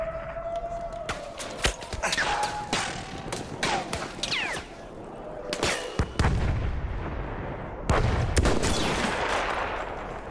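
Battlefield 1 combat: repeated sharp gunshots and heavy booming artillery blasts crack out in irregular bursts, some close and loud, others rolling in the distance, with brief whooshing passes between.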